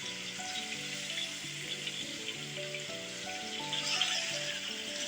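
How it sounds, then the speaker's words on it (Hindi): Chicken fries in a pot for korma over a medium-low flame, giving a steady, crackling sizzle up close, with soft tonal music running underneath. "खूब अच्छी तरह से फ्राई करेंगे ताकि चिकन अंदर से जो है वो पक जाए"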